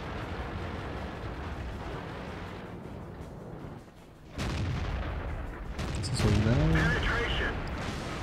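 Tank battle on the Mines map in a tank video game, with a T69 tank gun firing: a rumbling backdrop of engine noise and distant gunfire, then a heavy boom around the middle followed by sharp impact sounds, with someone talking over it.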